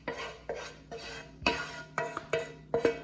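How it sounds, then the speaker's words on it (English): Sauteed onions scraped into a zucchini tuna bake, a spoon clinking and stirring against the dish in several short, soft strokes at a steady pace. "We're gonna put some nice sauteed onions in here."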